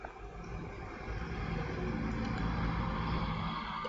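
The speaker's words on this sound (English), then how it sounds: "a big truck just went past" A big truck rolls past outside, its broad low rumble swelling and holding steady, heard at a moderate distance with no talking.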